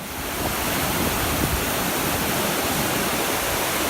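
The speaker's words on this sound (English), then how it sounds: "There's a river down there." A river rushes far below a mountain trail along the Pacific Crest Trail, a steady broadband roar of flowing water without pause, heard alone with some wind on the microphone.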